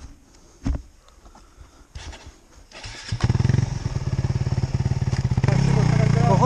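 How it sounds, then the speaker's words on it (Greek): An enduro motorcycle on a slope on Salamina, Greece, starts quiet with faint knocks, then its engine bursts into a loud, pulsing high-revving drone that strains steadily as it climbs, close to the listener. "Το μηχανάκι ανεβαίνει όμως."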